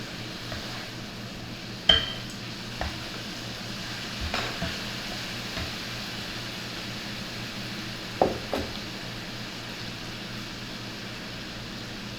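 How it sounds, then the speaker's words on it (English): Chilli shrimp sauce sizzles softly in a pan as it caramelizes, a steady low hiss broken by a few sharp utensil clinks, with no talking. "it done caramelized a little bit and you got that little sauce coming on"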